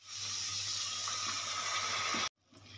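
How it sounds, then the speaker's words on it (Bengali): Boiled milk pours into cooked bottle gourd for payesh in a steady, close, rushing hiss that stops abruptly, followed by faint quiet stirring. "এবার দুধটা এর মধ্যে আমি দিয়ে দেব।"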